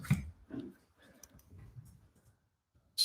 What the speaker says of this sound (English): Sorry if my typing's really loud